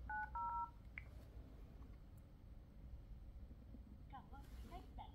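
An LG V60 phone plays a short quick run of dialing tones during a call test, a few clipped beeps near the start, then faint background hiss and a few later soft chirps.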